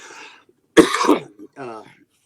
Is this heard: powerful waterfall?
no